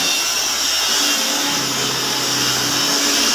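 A paddy and maize threshing machine runs at a workshop, giving a loud, steady, dense mechanical roar with whirring and rattling that holds unbroken throughout.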